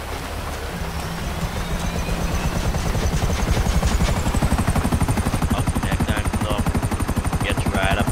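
A helicopter in the GTA Online video game drones with a steady, loud rotor chop across the whole stretch, with voices talking over it.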